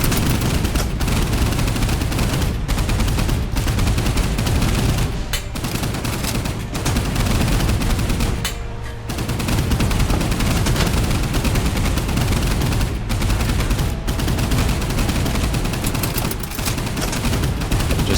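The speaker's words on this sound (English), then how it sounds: "We'll make sure that both guns can fire at the same time." Two deck guns on a boat in the naval combat game Boat Crew, set in the Pacific, fire continuously in a dense, loud fusillade of rapid overlapping shots and booms that runs for the whole stretch with only brief lulls.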